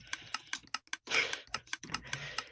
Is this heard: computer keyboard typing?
yes